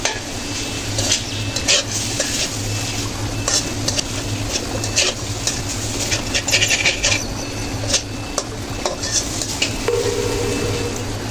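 Fish roe frying with spices and fish oil sizzles in a pan while a utensil stirs and scrapes, giving repeated close clinks and scrapes over a steady hiss.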